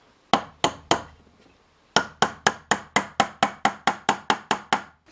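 A hammer drives guide pins about 35 mm long into oak staves for a wooden barrel head: three sharp, ringing strikes, a short pause, then a steady run of about a dozen evenly spaced blows, close and clear.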